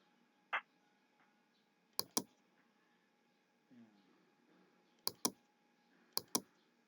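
A computer mouse clicks in crisp close pairs, three double clicks plus a single click, sharp and loud against a quiet room background.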